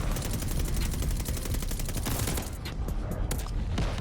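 Rapid, continuous M1928 submachine gun fire in the Call of Duty Vanguard game, loud, dense bursts that run almost without a break, a few sharper single cracks standing out near the end.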